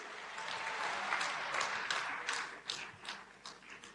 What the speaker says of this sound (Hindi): बहुत जोर से तालियां बजाकर माननीय प्रधानमंत्री जी का, माननीय मुख्यमंत्री जी का अभिनंदन कीजिए